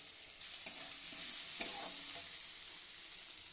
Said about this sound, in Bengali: এখন এখানে লাউ পাতা বাটাটা বসিয়ে দেবো